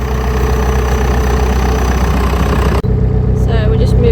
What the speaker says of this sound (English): So we're just moving all the tractors out of the field now.